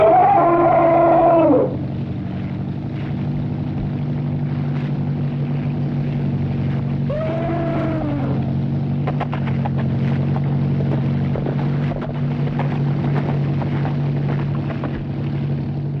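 A steady low motor drone of boats plying a lake, with a couple of whistle-like tones and a faint clatter over the hum.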